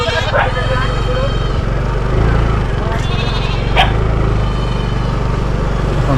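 Goats bleat a few times amid a noisy outdoor scene, with a constant low engine hum and voices in the background.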